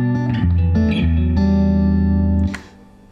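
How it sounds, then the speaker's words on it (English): A clean electric guitar rings out through a Music Man 212 HD 130 combo amp, master volume up, bright bell-like notes and chords sustaining before being cut off near the end. "Beautiful dynamic bell-like clean tones."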